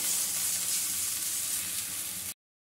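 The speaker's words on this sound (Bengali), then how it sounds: "কষতে কষতে আমি এর মধ্যে দিয়ে দিচ্ছি অল্প করে হিং" Spices sizzle and fry steadily in hot oil with a pinch of asafoetida added while cooking a jackfruit-seed vegetable dal, a continuous close hiss that cuts off abruptly near the end.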